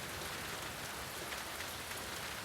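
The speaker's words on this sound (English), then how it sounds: "I liked that they took the time to kind of simulate how rain comes down in sheets" Heavy rain in The Last of Us Part II pours down in sheets, a steady dense hiss of drops on surfaces filling the whole moment without pause or voices.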